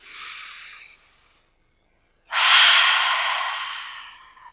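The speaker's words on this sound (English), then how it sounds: "take a nice deep breath here. And exhale out through the mouth." Deep breathing during a yoga session, a soft airy breath that fades, a pause of silence, then a louder long breathy exhale that slowly tapers off, close to the ear, with no talking.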